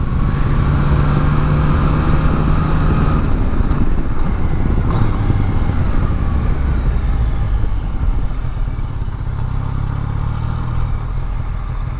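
A 2018 Yamaha Tracer 900 motorcycle ridden hard on a sporty road run, its engine droning loud and steady with shifting pitch, mixed with heavy wind rush against the microphone and no talking.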